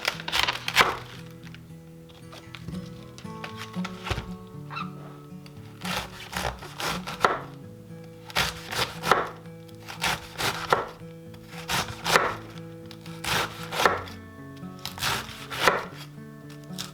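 A knife slices through half heads of green and red cabbage on a board, producing a steady series of sharp, close chopping thuds and crisp cuts in an irregular rhythm, with no talk.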